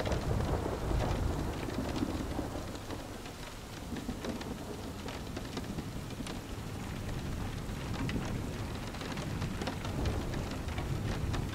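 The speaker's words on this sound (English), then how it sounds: "The sound of the rain" Steady rainfall on surfaces with rolling thunder, a dense even hiss of drops and low rumbles throughout, fairly soft and distant with no voices.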